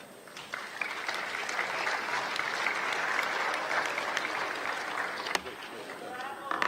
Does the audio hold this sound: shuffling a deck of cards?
no